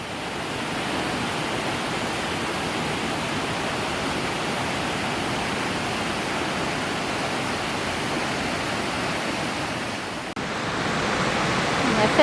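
Roaring waterfall at the lower falls near Jasper, a dense, steady broadband rush of falling water that fills the whole stretch, close and loud, briefly dipping then surging again near the end.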